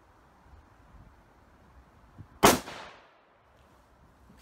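A single sharp rifle shot from a scoped rifle at a shooting range, loud and close, with a short fading echo after a quiet lead-in.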